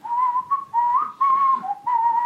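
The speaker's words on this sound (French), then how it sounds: "On siffle à 4?" Several people whistle together in a sustained, loud multi-note harmony, the tones gliding and shifting in a few long phrases with short breaks, no talking over it.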